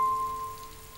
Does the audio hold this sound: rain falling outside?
yes